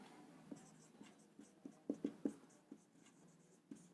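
A pen scratches out a maths solution on paper, a quiet sequence of short close strokes and taps with a few sharper marks clustered in the middle.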